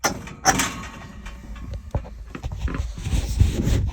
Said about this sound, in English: Turn that off. Shut the door.